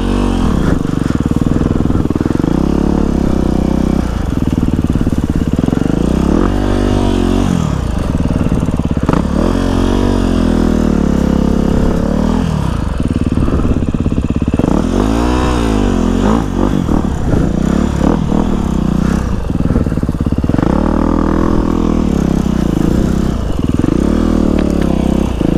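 Motorcycle engine running continuously and loud, with its note rising and falling in revs throughout, no speech over it.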